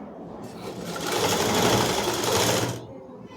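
A sewing machine runs steadily stitching a long frock, starting after a short pause and whirring loud and continuous for about two seconds before stopping.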